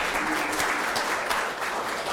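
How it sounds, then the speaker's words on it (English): A room of seated discussion-session participants claps for one table's presentation, an even, steady patter of many hands filling the whole stretch without talk over it. "let's give a round of applause for table 1 and also the comments"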